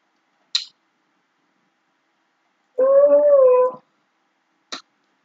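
A pet dog gives a short, tonal howl-whimper lasting about a second, framed by two tiny sharp squeaks before and after, in otherwise near silence.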